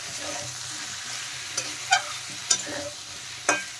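Potato and cauliflower cubes sautéing in a pan with salt and a pinch of sugar, sending up a steady sizzle with a few sharp scraping stirs of a spatula at irregular intervals.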